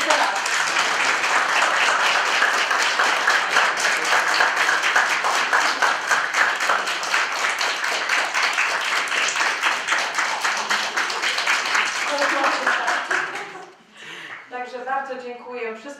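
Sustained audience applause for a class teacher at the Geomaniak 2013 geography competition, dense steady clapping from a crowd that fades out, followed by a speaker talking.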